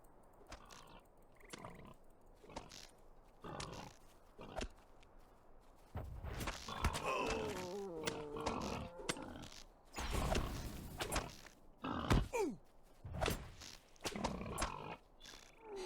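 Pigs in the game LOTRO grunt and snort in low, rough bursts, with irregular squeals and creaky noises repeating at close range.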